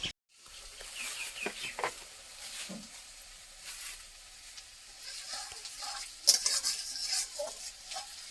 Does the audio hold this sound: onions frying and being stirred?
yes